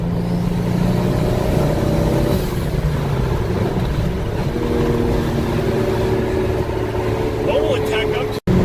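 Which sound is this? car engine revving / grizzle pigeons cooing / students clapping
car engine revving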